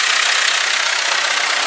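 A John Deere 550C dozer with a four-cylinder turbo diesel engine and a newly installed turbo runs at idle, a loud, close, steady engine roar with an even, unbroken drone and no talking.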